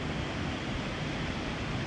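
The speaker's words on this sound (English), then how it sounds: "The wind feels so good, the waves sound so beautiful" Steady wind and ocean surf at a beach, a continuous broadband rush with no breaks, close and fairly loud throughout.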